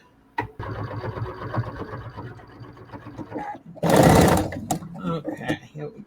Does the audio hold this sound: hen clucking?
no